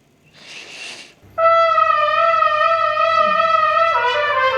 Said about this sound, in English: Or we can keep the air stream the same and bend with the lips.